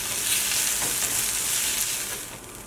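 Vegetables stir-frying in olive oil in a wok give a steady, loud sizzling hiss that runs unbroken for a couple of seconds, easing slightly toward the end, with no voices over it.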